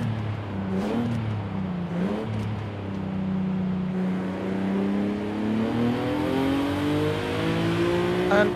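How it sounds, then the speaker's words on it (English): A 2019 Nissan 370Z Nismo in the Forza Horizon 5 racing game revs hard, its engine note climbing steadily, with crackling exhaust pops breaking through between gear changes. "just listen to that pops and bangs"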